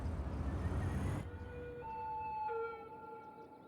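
An ambulance siren in the city-building game Cities: Skylines sounds as a steady, tonal wail after a burst of broadband noise cuts off, moderately loud and alone without speech.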